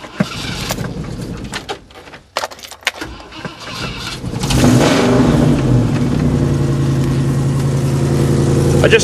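A V8 Toyota Hilux monster truck engine cranks with clicks and rattles, catches, and settles into a loud, rumbling run with some revving, close by.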